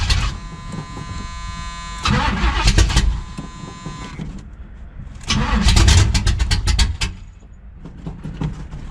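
A 1967 Oldsmobile Cutlass convertible cranks on a cold day in two loud bursts, with a busy starter whine and the engine catching briefly before each attempt dies away, close by.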